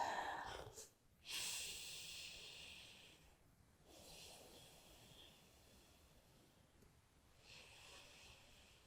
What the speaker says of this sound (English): Take 2 or 3 deep, slow breaths.